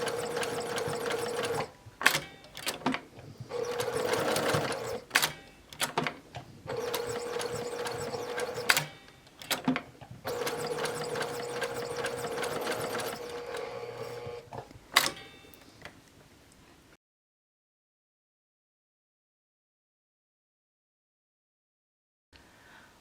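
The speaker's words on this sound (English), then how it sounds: "I finished stitching around the curves and I'm ready to cut this out." Sewing machine stitching around the curves of an axolotl plushie, a steady mechanical whir in repeated runs broken by brief pauses to turn the fabric, close and clear, then going silent near the end.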